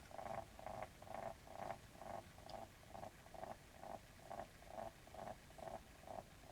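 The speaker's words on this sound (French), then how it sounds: "C'est la plastifieuse qui fait ce petit bruit. On dirait un ronronnement." A laminator machine in a home setting purrs softly, a steady rhythmic pulsing of low buzzy bursts repeating about twice per second, faint and close, with no talking.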